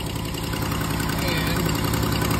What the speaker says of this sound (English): What we got is a misfire, cylinder 2 with a code